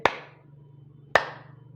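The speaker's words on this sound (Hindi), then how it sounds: "हम अंडज जीव के सामने तालियां बजाएंगे" Two sharp, separate hand claps ring out about a second apart, close and crisp, each decaying quickly into a quiet room with a faint low hum underneath.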